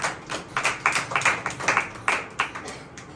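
A church congregation claps hands together in praise, a quick run of uneven, overlapping claps with sharp repeated peaks, fairly close and without talk.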